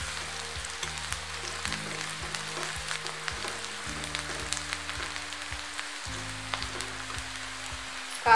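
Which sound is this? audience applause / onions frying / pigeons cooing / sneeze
onions frying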